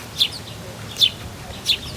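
Birds chirp around an outdoor snack spot in Helsinki, Finland, as short high tweets repeat about three times, moderately close, over a low steady background rumble.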